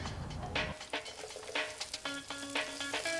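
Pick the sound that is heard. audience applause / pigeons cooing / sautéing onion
sautéing onion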